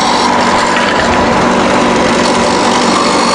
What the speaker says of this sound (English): trying to do is sand this right down to the line that I drew on there